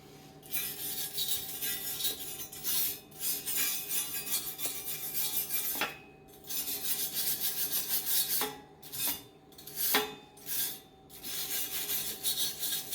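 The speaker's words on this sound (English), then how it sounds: "you just take the flux off with a wire brush" A wire brush scrubs welding flux off a steel tractor brush guard, quiet rasping strokes in uneven bursts with short pauses between them, close up and alone.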